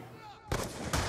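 Gunfire in the Black Ops 2 online multiplayer video game, with two loud, sharp bursts of shots following a brief quieter moment.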